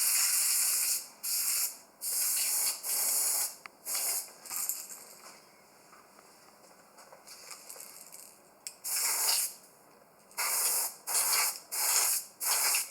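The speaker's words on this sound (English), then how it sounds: "we're going to spray this one." Repeated short bursts of aerosol paint sprayed onto a fishing lure, close and loud, hissing in rhythmic pulses with a quieter stretch of softer hissing in the middle.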